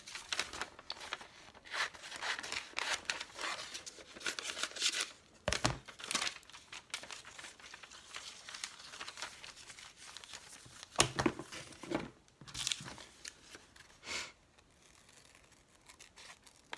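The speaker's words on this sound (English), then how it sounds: "I actually like the sound of cutting paper." Scissors cutting Asian paper for an altered book craft, a long run of crisp snips and crinkly rustles close up, steady with brief pauses and no talking.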